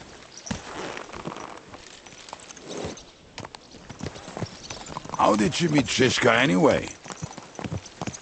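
Steady hoofbeats from a horse ridden across medieval Bohemia in Kingdom Come: Deliverance II, a continuous moderate clip-clop running beneath two men conversing throughout.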